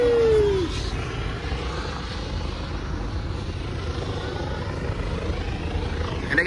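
A helicopter drones overhead at a street car meet, a steady low rumble and whir that stays constant, moderately loud, with no voices.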